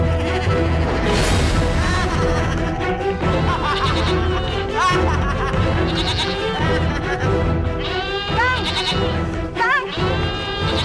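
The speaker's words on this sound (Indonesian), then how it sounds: "Kambing-kambing kita mendadak ketakutan." Frightened goats bleat loudly and repeatedly in a farm setting, their wavering cries overlapping one another over a dense, busy background of music and noise.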